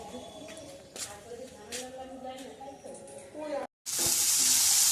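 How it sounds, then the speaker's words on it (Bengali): Banana stem pieces frying in a pan, sizzling softly under a woman's speech, then a sudden loud burst of hissing spatter near the end after a brief pause. "এখানে থোর ভাজা হচ্ছে"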